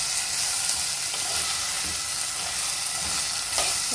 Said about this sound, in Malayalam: നന്നായിട്ടൊന്ന് ഈ എണ്ണയിൽ കിടന്നൊന്ന് ഫ്രൈ ആയി വരട്ടെ.